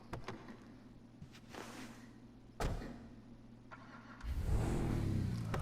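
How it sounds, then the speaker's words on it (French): A mafia-style car in GTA V Online, a very handsome vehicle, clunks once, then its engine catches and revs loudly near the end after quiet game background; nobody speaks. "On va écouter le bruit du moteur,"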